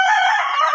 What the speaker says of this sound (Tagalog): Ipapakita ko po yung mga sisiw.